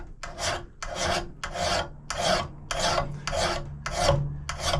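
A file is drawn along the edge of a steel knife blade in eight even, rasping strokes, each a close, gritty scrape separated by short pauses.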